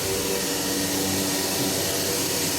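A CNC router's vacuum hold-down pump sucks a door panel flat to the table, a loud, steady whooshing roar that continues unchanged throughout with no speech.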